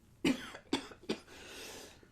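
Three sharp coughs from one person ring out close to the mic in quick succession, followed by a soft breathy exhale.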